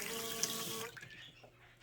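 A Vingli portable 5.3-gallon flushing toilet releases a brief rush of water for just under a second, then fades to quiet trickling.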